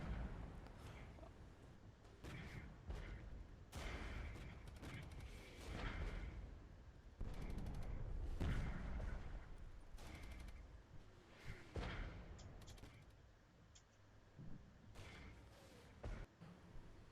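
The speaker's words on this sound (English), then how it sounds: "The self-propelled artillery begins to hammer the Americans' position" A self-propelled artillery barrage in the tactical strategy game Regiments, with repeated heavy booming shots and blasts landing at irregular intervals, some close together, over a continuous rumbling battlefield bed.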